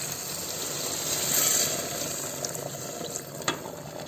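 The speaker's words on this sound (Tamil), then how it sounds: "இப்போது இந்த மிக்சியில் நம்ம அடித்த ஜாரில் இந்த தண்ணி ஊற்றணும்." Water pours steadily into a mixer grinder jar, a continuous splashing hiss with a few small clinks near the end.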